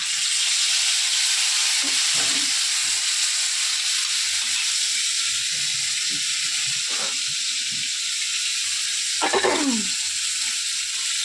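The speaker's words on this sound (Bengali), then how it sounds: "এবারে আর একটা মাছ আছে, ভেজে নেব।" Spicy fish frying in a pan, a steady loud sizzle filling the whole stretch with a few soft stirring knocks and clatters, steam hissing throughout.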